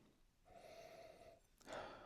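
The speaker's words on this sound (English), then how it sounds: "We'll give this a sniff." Two soft nasal sniffs over a glass of wheated bourbon. They come close to the microphone, one long and one shorter, with quiet room noise between them.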